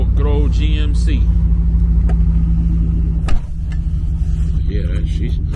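A GMC truck engine starting slowly on a weak battery and settling into a steady low idle rumble, close by, with a brief loud burst partway through and people talking over it.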